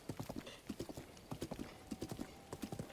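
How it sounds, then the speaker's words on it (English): Horse hooves clip-clopping steadily in a Nintendo Switch 2 video game as a not fully tamed horse moves along a roadway, a quick regular rhythm of close, distinct hoof strikes with a faint low voice underneath. "Movement with the horse is smooth, though."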